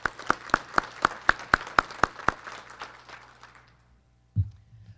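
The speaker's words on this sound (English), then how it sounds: "Give them a round of applause." Brief applause for college trustees at a convocation gathering, about a dozen sharp, evenly spaced claps that fade out, followed by a short low thump near the end.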